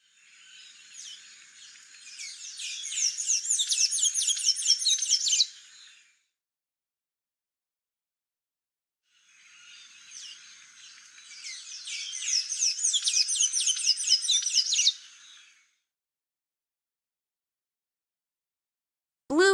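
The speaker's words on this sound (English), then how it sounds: "Blue-gray tanager." Blue-gray tanager song: two bursts of rapid, high, squeaky twittering notes, each lasting about five seconds with a pause between, clear and alone.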